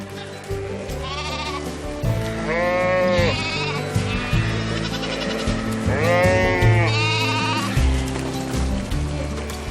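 A flock of sheep bleating in an Alpine pasture, several animals calling in overlapping, wavering bleats near and loud over a steady low rumble of background noise, with no talk.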